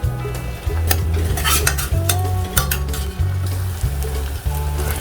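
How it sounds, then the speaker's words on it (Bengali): A spoon scrapes and stirs fried onion with ginger, garlic and chili paste in a pan in repeated, even strokes, with a soft sizzle of frying under the clanking utensil. "তো এবার আমি এর মধ্যে দিয়ে দিচ্ছি আরেকটু আদা রসুন আর লঙ্কার পেস্ট"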